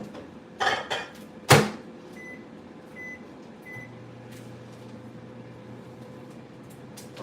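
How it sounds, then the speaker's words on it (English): A home microwave oven defrosting meat: a few clunks and a loud door or button thump, a short series of beeps, then a steady low hum as the oven runs, close and fairly quiet. "I know I'm putting the meat in the microwave"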